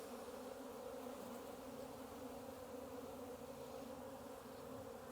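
A dense, steady drone of many honeybees buzzing together in a hive, continuous and close, with no pauses or other sounds.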